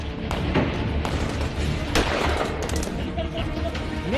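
Rapid bursts of gunfire crackle over a dense, noisy background during a terrorist attack on the Indian Parliament, with several sharp reports standing out amid continuous rumbling commotion.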